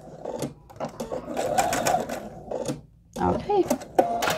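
A sewing machine back stitches across a crib quilt in quick, rattling bursts that stop and restart, with a brief pause before a final run and a short mechanical clunk.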